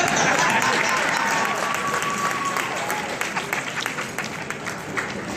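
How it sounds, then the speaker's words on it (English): An audience at a college football hall of fame induction applauds in a steady, full round of clapping that gradually loosens into scattered claps, with some crowd noise mixed in. "let's give Donald Williams another round of applause"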